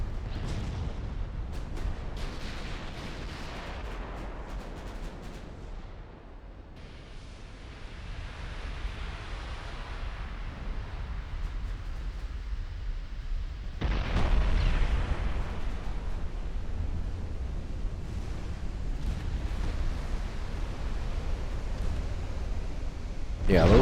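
Heavy 20-inch naval guns of a warship in a 1946 naval battle in Ultimate Admiral: Dreadnoughts, a video game, boom as a steady, dense rumble, with one stronger blast near the middle and a loud swell at the end.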